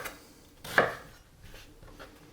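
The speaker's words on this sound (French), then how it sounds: "Donc les navets, on va les couper en cubes." A knife chops turnips into cubes on a cutting board, with one clear crisp cut and a few fainter knocks, close by and without talk.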